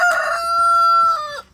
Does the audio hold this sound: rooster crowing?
yes